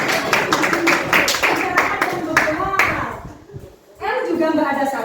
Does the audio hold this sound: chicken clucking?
no